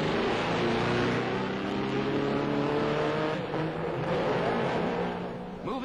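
Classic racing cars pull away at the start of the Czech Grand Prix on the Masaryk circuit at Brno, with engines revving and droning loudly together before easing off near the end.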